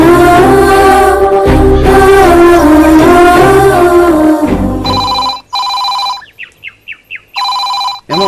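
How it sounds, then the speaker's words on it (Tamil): A telephone bell rings in repeated short bursts, loud and close, after a stretch of melodic film score in a Tamil drama. "கொஞ்சம் ஃபோன் எடுத்து பேசுமா."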